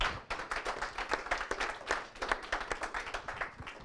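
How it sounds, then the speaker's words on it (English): Brief audience applause for panelists at a Google I/O Extended meetup in Toronto, a dense patter of many hands clapping at moderate volume, steady for a few seconds. "Just a quick round of applause for our esteemed panelists."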